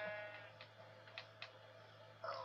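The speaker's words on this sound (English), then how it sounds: "I'm shearing loads of sheep." Sheep being sheared in Minecraft on Xbox 360: a few short, faint bleats and snips spaced across a steady low hum, with no talking.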